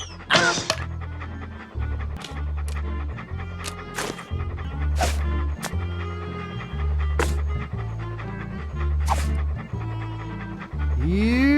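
A dog panting rapidly and rhythmically in the remastered Monkey Island 2: LeChuck's Revenge, steady breathy pulses close up and continuous over game background, with a short whimper-like squeak near the end.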